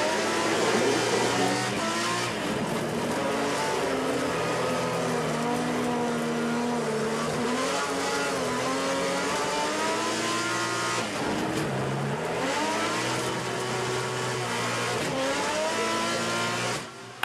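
Onboard a Trophée Andros ice racing car on a qualifying lap, the engine roars continuously at high revs, pitch rising and dipping through shifts and corners, loud and close with no talk.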